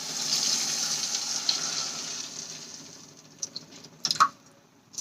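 A steady hissing wash as about a glass of water is poured onto sautéed spices in a hot pan slowly fades, followed by a few light clinks and taps near the end.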